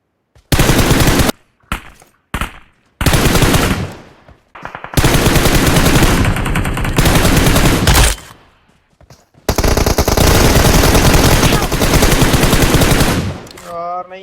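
Gunfire from PUBG Mobile rattles in loud, long automatic bursts separated by short silences, sustained sprays of close machine-gun fire that stop and restart several times.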